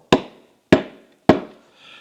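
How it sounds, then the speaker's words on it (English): A hammer handle taps engine bolts to seat them during piston installation on a Scout engine. Three sharp, close knocks land about half a second apart, each with a short ringing decay. "Then I want to give it a little tap with a hammer handle"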